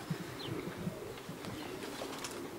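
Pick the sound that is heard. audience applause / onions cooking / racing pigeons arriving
racing pigeons arriving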